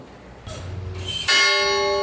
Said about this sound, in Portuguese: quem ouve o badalar dos sinos a cada 15 minutos e 1 hora